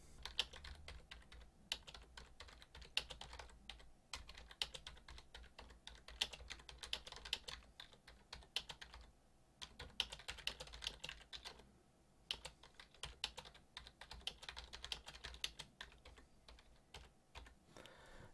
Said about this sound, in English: In this paragraph, I'm going to type a longer sentence.